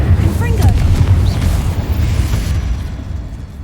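A Confringo spell blast goes off in a wizarding video game, a loud low booming rumble that decays over a few seconds, with faint higher whooshing effects near the start.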